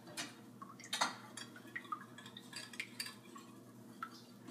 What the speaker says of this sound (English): You mix it together well.